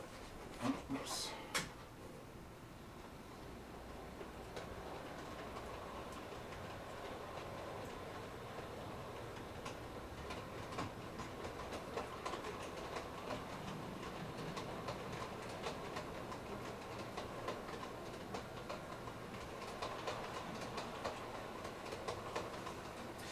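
An On30 scale model train runs along its track with a faint continuous rolling rattle and occasional light clicks, while a person talks over it.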